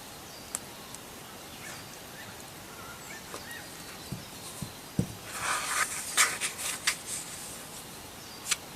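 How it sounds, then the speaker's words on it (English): Birds chirp and twitter faintly outdoors in the late afternoon against a soft background hiss. Several brighter trills cluster near the middle, and a few light clicks and taps come from close by. "I hope you can hear the birds."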